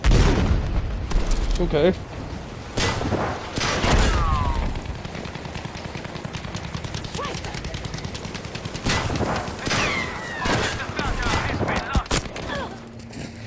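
A Battlefield V match rattles with repeated bursts of gunfire and heavy booms from hand grenade blasts, scattered explosions and distant shots over a battle din, with a player's voice speaking briefly.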